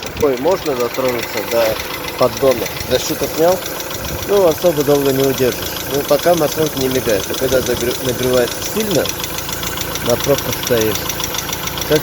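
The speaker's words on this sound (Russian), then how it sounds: "Компенсатор все равно стучит" A car engine idles with a worn hydraulic lifter knocking, a rapid steady ticking under a low running hum, close up, while someone talks over it throughout.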